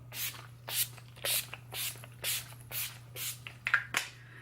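Urban Decay All Nighter setting spray is misted onto a face in about nine quick, close spritzes, each a short airy hiss with brief pauses between.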